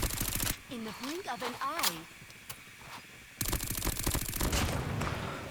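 CX-9 submachine gun hip-fired in Call of Duty, two loud rapid automatic bursts with a brief pause between, someone speaking in the gap.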